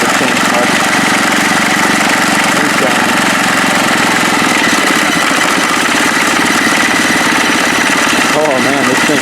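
A motorcycle engine on a 2019 ATLTF build-off custom, fitted with a new muffler pipe, idles steadily with a dense mechanical rumble and throb, loud and close, continuous through the whole stretch.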